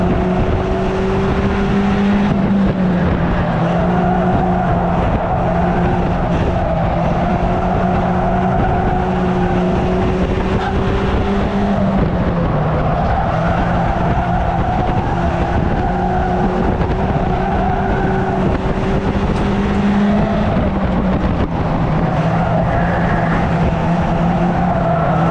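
Stock cars race around Cowdenbeath Racewall in a close late-race battle, a loud continuous roar of several engines whose pitch climbs and dips as cars pass and accelerate, with no talking.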